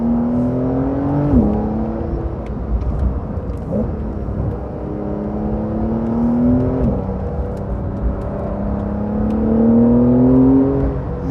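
A 2020 Porsche 911 Carrera 4S accelerates hard from inside the car, the engine note climbing steadily in pitch, dropping sharply at quick paddle-shift gear changes, then rising again, loud and continuous throughout.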